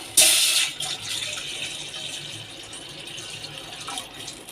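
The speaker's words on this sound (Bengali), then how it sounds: "পানি দিব" Two cups of water poured into a pot on a gas stove for homemade tomato sauce, a bright splashing gush at first, then a steady softer pouring hiss trailing off.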